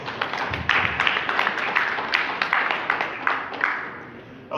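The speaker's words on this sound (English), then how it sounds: "Can we please give him another round of applause?" Steady applause fills a hall as people at a political party meeting clap for an honorable member. The clapping is dense and continuous, with sharper individual claps standing out, and it eases slightly near the end.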